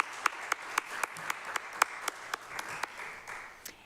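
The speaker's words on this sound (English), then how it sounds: "we can give you a round of applause and recognition for your service" Sparse clapping from a small audience honoring union members at a Somerville city proclamation, with distinct individual claps popping regularly over a softer bed of hands, moderately near and fading slightly toward the end.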